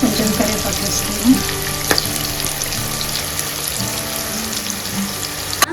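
Onion and curry leaves sizzling steadily in hot oil in a pan, a close, continuous crackle with a few light clinks of stirring and no talking.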